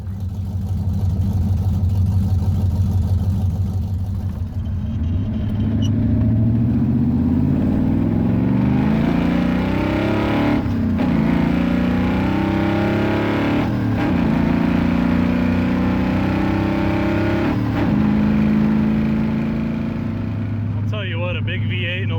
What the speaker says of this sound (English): A big V8 in a little car is just a lot of fun.